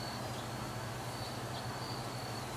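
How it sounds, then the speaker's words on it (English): Crickets at night, a faint, steady high-pitched trill with soft pulsing, set against a low background hum. "crickets pulsing"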